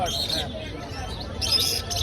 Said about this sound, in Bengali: কোকাটেলের বাবু।